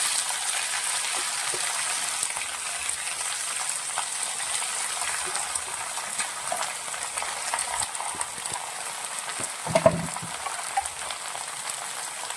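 Chopped fenugreek leaves and onion fry in a pan for a green gram thoran, making a steady, moderate hiss and sizzle with scattered light crackles and a brief clatter near the end; no speech.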